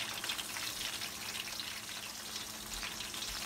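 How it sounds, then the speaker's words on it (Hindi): Green chili pakoras deep-fry in hot oil, giving a steady, fine crackling sizzle with dense bubbling, moderately quiet and continuous, with no voices. "इनको फ्राई कर लेते हैं।"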